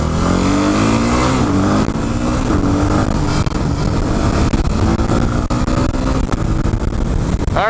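A Yamaha WR250X motorcycle engine while riding, a loud, continuous buzz with rising and falling revs through gear changes, heavy wind rush throughout.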